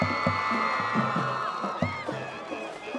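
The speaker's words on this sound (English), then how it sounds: "A round of applause for Miss Abigail Huey." Crowd at a high school football game homecoming introduction, cheering and whooping from a distance for a candidate, with a booming announcer's voice and some clapping mixed in.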